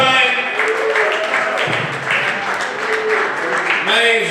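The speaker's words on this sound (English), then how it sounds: "Everybody clap for Brian." Audience clapping at a comedy show, sustained applause running the full length with a voice talking over it and cheering calls in the crowd.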